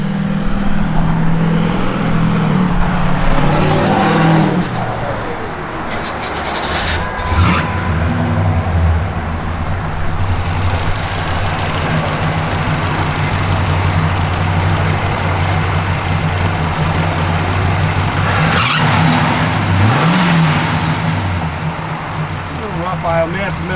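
A 1966 Pontiac GTO engine running at a steady idle, a continuous low rumble that holds throughout while someone talks over it, with a few brief rises and shifts partway through.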